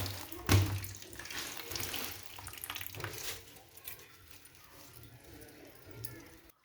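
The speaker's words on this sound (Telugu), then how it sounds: "కుళాయికి అయితే నీళ్ళు వస్తున్నాయి." A kitchen tap runs steadily while spinach is washed under it, giving a hissing, splashing stream with an early clunk and some clatter. The rush of water fades a little toward the end.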